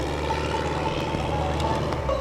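A small 65 horsepower airplane engine at an airshow truck-landing act drones steadily and loudly throughout, its continuous hum mixed with wind and crowd noise.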